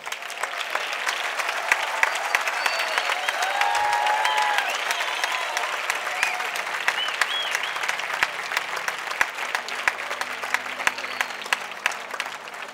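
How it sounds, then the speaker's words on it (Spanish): Applause from the audience at an academic year closing ceremony for the 2013-2014 course, steady dense clapping filling the hall throughout with a faint murmur of voices beneath. "yo solicitaría un aplauso general para todos vosotros"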